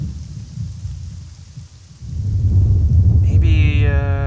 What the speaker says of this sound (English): There isn't much I can do about lightning.